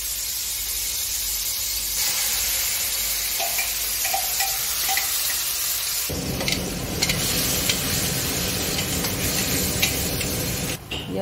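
Chopped onion and tomato sizzle and hiss in hot oil in a pan, with steady stirring scrapes; the frying grows louder and fuller partway through and keeps a continuous crackling wash to the end.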